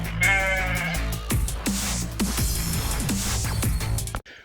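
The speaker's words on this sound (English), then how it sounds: "there was a mob of wild sheep" A mob of wild sheep bleats in a valley on a hunting stalk, several loud overlapping calls that come one after another with no pause and stop abruptly at the end.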